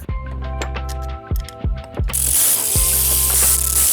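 Ratchet wrench snugging driveshaft bolts on a BMW 328xi E9X with N52 engine, rapid clicking ratchet bursts in several short runs, close and loud, followed by a harsher steady hiss.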